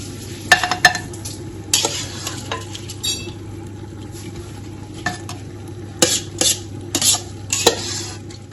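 Rice goes into plov cooking in an Afghan kazan, a low frying sizzle underneath sharp, irregular metal scrapes and clinks of a utensil against the pot, close and loud, with no voices.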